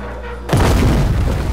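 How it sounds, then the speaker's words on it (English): A cannon fires in Shadow of the Tomb Raider, a single loud, deep boom that bursts in after a quiet lead-in and rolls on as a heavy rumble to the end. "Shoot the cannon."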